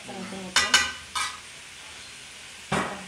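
A spoon scrapes and stirs spiced meat for biryani in a pan, with a few sharp scraping clatters spaced apart over a low sizzle, close by, and a voice briefly heard at the start.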